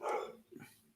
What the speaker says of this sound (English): are my fucking dogs barking like crazy again?